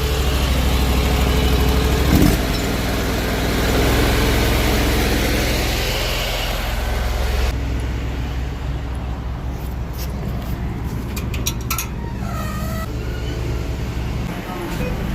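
A drain jetter engine is started and runs steadily for a blocked drain job. Its low, continuous rumble carries throughout, with a brief knock near the start and a lighter, thinner running tone in the later part.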